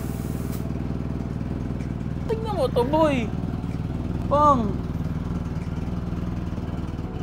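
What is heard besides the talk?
old car engine sounding like a motorcycle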